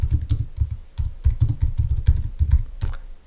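Keys clatter on a computer keyboard in quick, uneven bursts of close, crisp clicks, with a few short pauses while text is typed into a Photoshop design.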